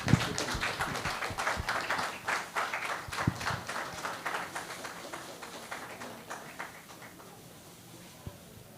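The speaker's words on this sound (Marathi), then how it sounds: "जोरात टाळ्या वाजवा." An audience at a felicitation event bursts into loud, sustained applause with dense, rapid clapping. It gradually thins and fades toward the end, with no speech over it.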